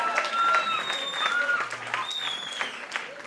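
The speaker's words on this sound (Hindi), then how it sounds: "एक बार जोरदार ताली होना चाहिए, फास्टर एंड लाउडर।" Audience at a stage event applauding loudly, a dense continuous wash of clapping throughout with a few voices mixed in.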